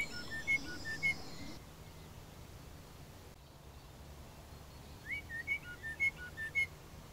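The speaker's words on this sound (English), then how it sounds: "here's a blackbird I recorded in 2012" A blackbird sings in two short bursts of clear whistled phrases, separated by a quiet gap, faint against soft outdoor background hiss.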